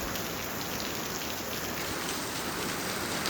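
Heavy rain pours steadily onto a car in a downpour, a dense, continuous hiss of drops with no pauses and no voices.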